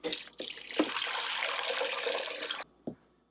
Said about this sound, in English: And we're gonna fill it up with water.